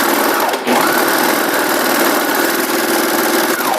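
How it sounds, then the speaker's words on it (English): A sewing machine runs steadily while stitching a seam on pajama pants, a close, even mechanical whir that holds almost unbroken, with a brief dip near the start. "As I finish that seam."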